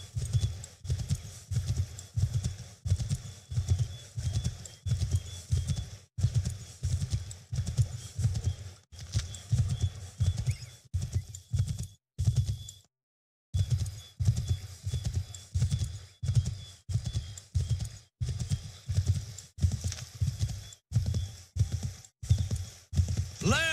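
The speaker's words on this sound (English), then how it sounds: "Come on, horse, go down." Galloping horse hooves in Assassin's Creed 3 pound in a fast, steady rhythm throughout, with one short break in the middle, close and prominent.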